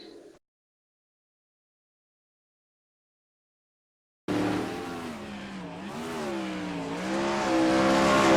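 A wingless sprint car on the USA International Speedway in iRacing blares after a brief silence, its engine loud and close, pitch rising and falling through the corners with tire squeal.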